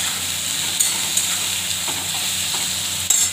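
Okra and potatoes fry in a pan, a constant close sizzle with a few sharp utensil clicks and scrapes as the pieces are stirred.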